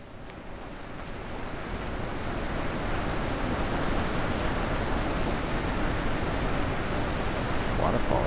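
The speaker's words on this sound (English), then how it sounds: "Waterfall, that's nice." A steady waterfall in the video game The Witness rushes as a continuous broadband roar of falling water, with no voices, slowly swelling in loudness over the first few seconds and then holding level.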